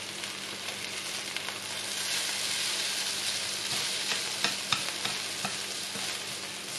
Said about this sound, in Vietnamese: Mình chiên cái mì nó rám lên luôn cho nó ngon nè.